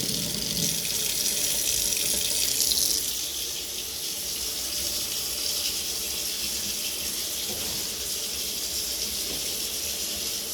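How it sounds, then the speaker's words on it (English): Water gushes steadily from a tap into a sink in a rented house as hot water is being run, a constant close hiss and splash that eases slightly after a few seconds and carries on unchanged. "Just going to turn it the other way just to get the hot water going."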